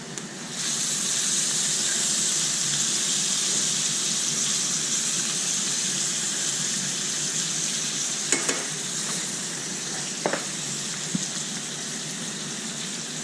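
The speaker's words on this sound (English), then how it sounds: "I need the pasta water in there anyway, so I'm just going to throw it in with it now." Pasta and its starchy cooking water tipped into a pan of meat for cheeseburger pasta, giving a steady, loud sizzle and hiss throughout, with a few sharp clinks near the end and no talking.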